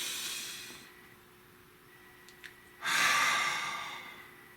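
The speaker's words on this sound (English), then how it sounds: "Breathe." One person draws a slow breath inward, then lets out a long, audible sigh, soft and close in a quiet room.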